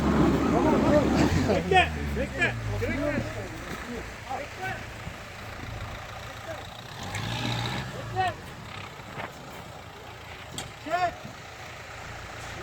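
A car stuck in mud drives forward with its engine running low and rumbling underneath. Several people shout and urge loudly over it, and the engine swells briefly near the start and again midway.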